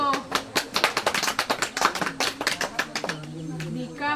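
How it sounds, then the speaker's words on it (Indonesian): A class of young schoolchildren claps hands together in a fast, rhythmic burst of sharp claps, close and lively, with a few voices audible near the end. "kita tepuk tangan dulu."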